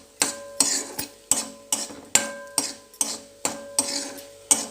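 Cumin and coriander seeds dry-roasting in a pan, stirred with a metal spoon that gives about a dozen sharp, evenly spaced scrapes and clinks against the pan, close and clear with no talk.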